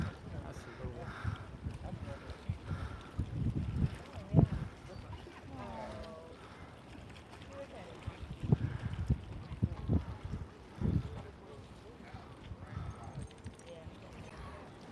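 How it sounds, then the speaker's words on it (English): Gusty wind rumbles and buffets the microphone at Port Canaveral while a person talks over it, with occasional louder bumps. "See how windy it is?"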